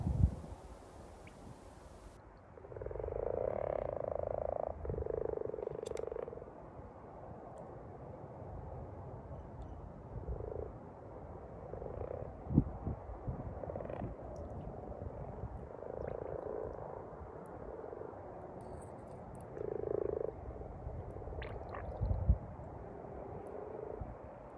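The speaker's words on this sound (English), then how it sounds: "It's really nice to hear the male frogs calling like this at this time of year" A chorus of low, purring croaks from male common toads rises and falls from a pond, some calls near and some distant, over a soft outdoor background rumble.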